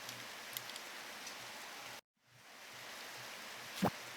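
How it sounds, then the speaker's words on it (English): Steady rain falling in a farming game, a soft, even hiss of drops that cuts out briefly and then fades back in, with a short thump near the end. "And the rain."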